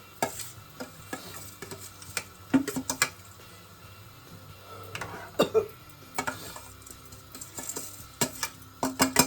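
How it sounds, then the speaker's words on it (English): Rice goes into a pot for a biryani-jollof dish and is stirred over the heat, with repeated close scraping and ticking of a spoon against the pot above a low, steady sizzle. "now I'm going to go in with the rice"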